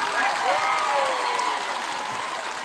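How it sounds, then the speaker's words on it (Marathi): A crowd applauding at a Banjara community protest rally in Beed, a dense continuous clapping that stays loud across the moment, with voices mixed in. "जोरदार टाळी वाजवून स्वागत करायचे"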